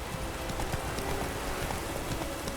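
Horse Roach trotting in The Witcher 3 video game, a steady rhythmic clip-clop of hooves at close range, with no talk over it.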